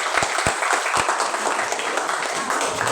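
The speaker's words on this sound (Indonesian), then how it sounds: "Ya, tepuk tangan buat saya." An audience applauds at a thesis defense, a dense and fairly loud wash of clapping with a few sharper single claps near the start that then settles into a steady roar.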